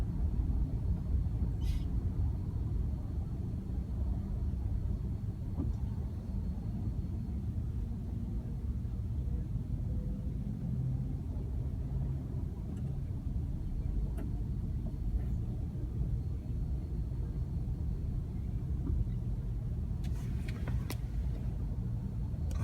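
Slow-moving car traffic along the arrivals road at LAX, Los Angeles International Airport: a steady, dense low rumble of engines and tires close by, with faint higher clicks and a brief sharper noise near the end, no talking.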